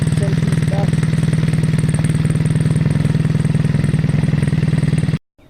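Restored Triumph motorcycle engine idling around 1,000 rpm from about ten feet away, a steady loud, even thumping beat that cuts off abruptly near the end.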